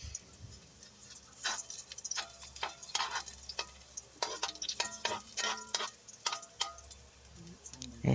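Ginger sautés in a pan for chicken curry: a soft sizzle runs under a string of scraping, clattering stirs of a utensil against the pan, close and fairly clear.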